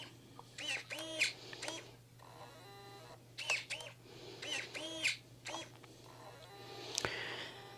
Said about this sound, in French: C'est en train d'imprimer.